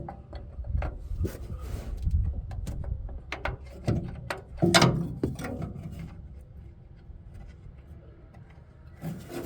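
Ratchet work loosening the bolts on a compressor belt, with a scatter of close clicks, knocks and scraping metal-on-metal movements, irregular and fairly quiet throughout.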